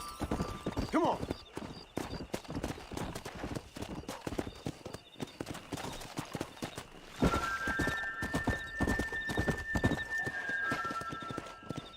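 Horse hooves clip-clop steadily at a riding pace in the Red Dead Redemption video game, loud and close, with a horse whinnying and a voice talking over the galloping.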